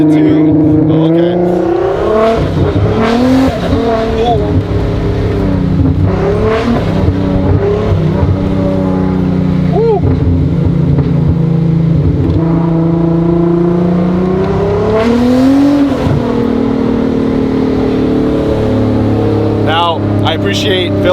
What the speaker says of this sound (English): this thing sounds amazing, and it's boosted too